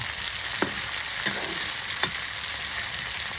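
Drumstick pods (swajna) frying in a pan for pickle give a steady, close sizzle, with a few sharp stirring scrapes standing out over the hiss.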